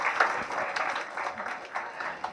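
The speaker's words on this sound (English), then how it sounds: "Let's give her a round of applause there." Audience at a psychic readings show gives a round of applause, a dense, uneven patter of many hands with a few louder claps near the start, at moderate level.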